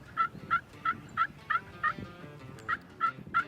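Several wild turkey gobblers fight out beyond the listener, their gobbles coming in a steady series of sharp, rattling bursts roughly every third of a second, moderately distant over a low outdoor rumble.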